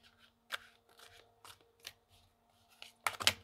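Tarot cards shuffled in a few short papery riffles and snaps, spaced about half a second apart, ending in a louder, denser burst of card flutter near the close.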